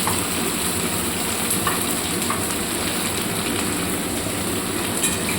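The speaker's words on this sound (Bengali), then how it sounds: "এবার এটাকে ভাজবো ভালো করে।" Onions frying in oil over caramelized browned sugar, a steady dense sizzle at close range with no talk, constant throughout.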